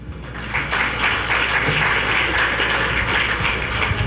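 An audience at a Philippine judicial ceremony applauds a Tagalog greeting, a dense burst of clapping that starts after a brief pause and holds steady and fairly loud to the end.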